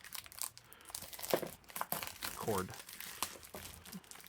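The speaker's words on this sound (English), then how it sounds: "So we've got the wrapper off." Plastic wrapper crinkling as it is pulled off the box of a Fnatic Lamzu Thorn 4K special edition gaming mouse: close, fitful crackles and crumples over a few seconds, with a faint voice in the background.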